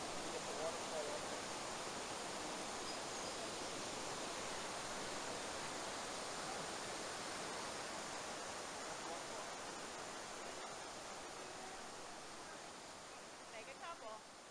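A waterfall roars as a steady, dense wash of rushing water throughout, fairly loud and unbroken, easing a little toward the end.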